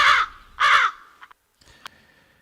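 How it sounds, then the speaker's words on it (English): Crows give two loud, harsh caws in quick succession, followed by fainter clicks and a brief sharp knock against quiet outdoor background. "We got funny crows down here."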